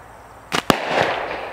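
A small plastic water bottle hit by a slingshot shot bursts with a sharp double bang, the two quick cracks followed by a brief hissing spray.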